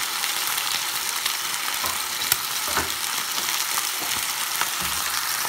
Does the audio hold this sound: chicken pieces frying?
yes